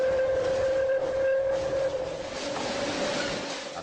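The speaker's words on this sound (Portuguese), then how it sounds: "Partimos em um trem de subúrbio. Logo cruzamos o túnel do Botujoru." A suburban train runs through the Botujoru tunnel with a steady, droning rumble and a sustained tonal whine. The noise is broad and enclosed, and no voices are heard.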